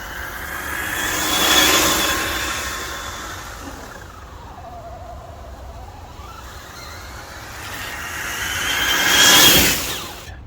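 A Traxxas TRX6 G63 6x6 RC crawler runs fast in second gear, its electric motor whine rising as it passes close, fading out in a falling sweep, then building again to a loud second pass.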